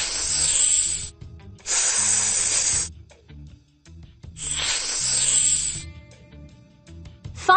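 Snakes hiss behind a door in a Paw Patrol cartoon video game, three loud airy bursts of hissing separated by short quiet gaps, with faint game tones in between.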